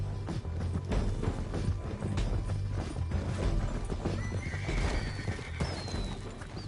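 In a PS4 video game, a horse whinnies loudly over a busy clatter of hooves and rustling movement, with the neigh rising near the end.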